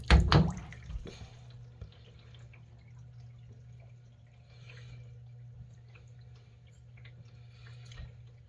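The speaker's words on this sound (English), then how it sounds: "Yep, it's draining really good now." Water drains steadily down a freshly unclogged shower drain, giving a continuous low gurgling hum with a few faint drips, louder in the first second and then settling to an even flow.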